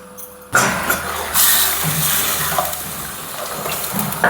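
Rasam made with tamarind and tomato boils in a pot. A loud bubbling, watery hiss begins abruptly after a brief quiet moment and then continues steadily.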